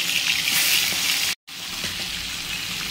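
Prawns sizzle loudly in hot mustard oil in a kadai, a steady bright frying crackle broken by a brief silent gap, then continuing close and unbroken with no talk.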